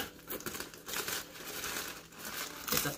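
Paper wrapping inside an all-black crossbody camera bag crinkles and rustles close by in uneven bursts for a few seconds, with no talking.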